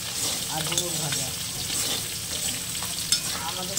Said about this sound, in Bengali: ডুমুর ভাজা লঙ্কা পেঁয়াজ আর পাঁচফোড়ন দিয়ে আমি ভাজা করলাম